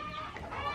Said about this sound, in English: And these are my light Sussex. I've got 3 pullets and 2 little cockerels in there.